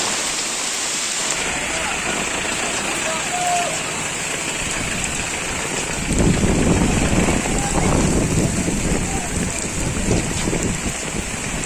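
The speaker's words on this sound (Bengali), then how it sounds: "দেখতে পাচ্ছেন এখনও প্রচণ্ড বাতাস বয়ে যাচ্ছে" Strong wind from Cyclone Remal rushes steadily at an evening crossroads with a wet, rain-like hiss, surging louder and more turbulent about halfway through.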